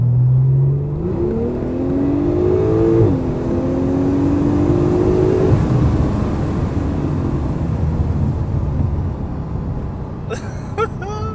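Car accelerating hard down a straightaway, its engine note climbing through a gear then holding a loud, close whine, easing off toward the end before some clattering noises.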